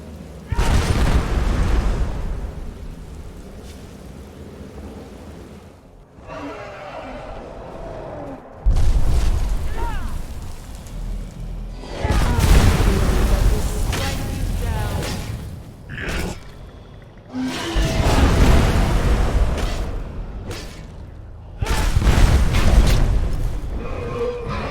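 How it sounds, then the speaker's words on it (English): Fiery explosions bursting from power attacks with a sword in Skyrim Special Edition, a series of loud booming blasts and crashing impacts separated by brief quieter gaps, mixed with clanking combat noise. "All your power attacks will now explode with Umbra's fire."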